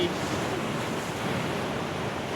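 Sea waves breaking on the coast at Bo It beach in Songkhla, Thailand, a steady loud wash of surf mixed with wind buffeting the microphone, no talking.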